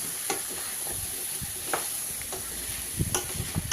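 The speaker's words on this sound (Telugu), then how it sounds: "ఇప్పుడు ముక్కలన్నింటినీ కలిపి పోపులో వేసేసి ఉప్పు కారం ముక్కలకి పట్టేలాగా బాగా మిక్స్ చేసుకోవాలి" Young pumpkin pieces get stirred into a hot tempering with salt and chili powder, soft crackling sizzle under a few spaced scraping strokes of a spoon in the pan.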